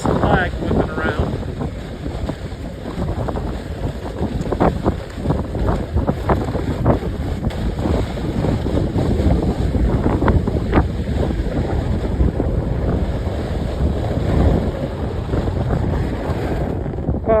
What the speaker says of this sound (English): Windy. You see this flag whipping around.